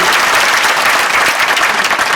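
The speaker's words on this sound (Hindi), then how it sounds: "तो एक बार जोरदार तालियां हमारी सोसाइटी की महिलाओं के लिए।" Loud, dense applause from an audience at a housing society gathering, steady and continuous throughout with no break.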